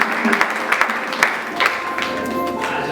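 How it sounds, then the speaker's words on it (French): Audience applause at a church auction during a day of worship: a crowd claps steadily for a few seconds with irregular louder claps on top, fairly close and dense. "On acclame."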